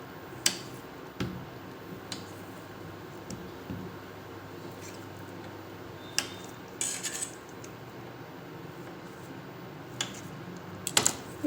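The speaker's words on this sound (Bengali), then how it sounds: "যে আমি পনিরগুলা কেটে নেবো।" A knife cuts pieces of paneer, producing sparse, faint taps and clicks against a surface, scattered irregularly over a quiet background.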